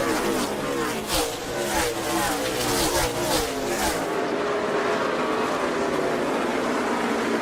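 NASCAR race cars roar through heavy traffic on the final lap at Bristol, a dense, continuous engine drone with rising revs and pass-by swells, loud and close throughout.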